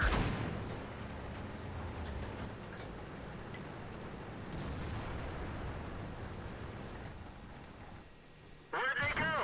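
A tank cannon in the video game CIM2 fires with deep, rumbling booms over a steady engine drone, fairly distant and muffled, and a voice speaks near the end.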